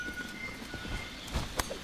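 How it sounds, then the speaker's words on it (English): Horse hooves clip-clop in Monster Hunter World, a short run of soft, fairly faint hoofbeats over a steady game background, with two sharper taps near the end. "Yes, a horse."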